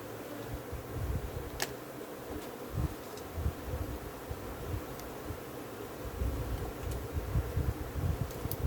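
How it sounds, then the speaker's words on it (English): Africanized honey bees buzzing at an open hive frame, a steady close low hum with brief louder swells and faint clicks, no voices. "These bees working fast,"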